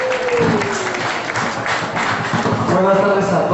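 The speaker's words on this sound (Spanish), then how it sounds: "Vamos a un fuerte aplauso para Dani el Tremendo Estrada." An audience at a boxing gala press conference applauds to welcome boxer Dani el Tremendo Estrada, with steady, fairly loud clapping throughout and a voice speaking over it.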